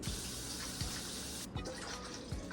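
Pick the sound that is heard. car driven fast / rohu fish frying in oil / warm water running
warm water running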